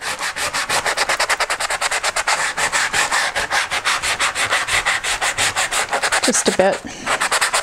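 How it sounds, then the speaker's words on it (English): A paper butterfly is sanded down on a mixed media art journal page, giving fast, rhythmic, rasping strokes close up, with a brief spoken remark near the end. "first I want to sand this back a little bit"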